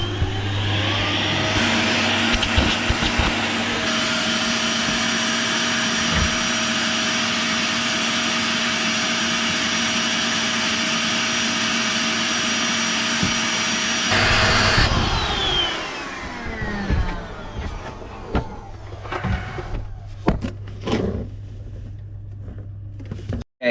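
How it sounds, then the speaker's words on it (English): A household hoover vacuum cleaner whines loudly and steadily with its nozzle held over one end of electrical conduit, running for about fifteen seconds before winding down, followed by scattered handling clatter. "So then the conduit is down there when I turn the hoover on."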